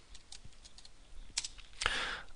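A computer keyboard is tapped while a command is typed into Matlab, giving faint, scattered keystrokes that end in a louder cluster of clicks.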